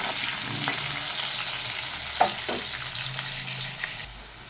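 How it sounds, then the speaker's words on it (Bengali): Potatoes fry in a pan with a dense, steady hiss of hot oil, punctuated by a few scraping stirs and a sharp utensil knock partway through, with no one talking. "আলুটা বেশ ভালো করে ভাজা হোক।"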